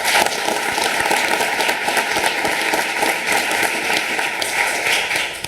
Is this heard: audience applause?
yes